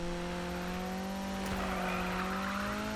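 Mazda Miata engine in Need for Speed 2015, a steady droning tone at high speed with tire noise and a brief sharp jolt partway through, loud and continuous with no voices.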